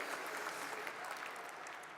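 A crowd claps through an audience at a market launch event in Amsterdam, the applause steady and dense from start to finish, no voices over it.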